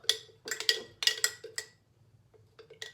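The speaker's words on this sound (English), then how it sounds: "And then I'm just gonna stir it up" A utensil clinks and scrapes against a container while stirring sourdough starter, in a series of quick, uneven strokes, close by, with a short pause before a few more taps.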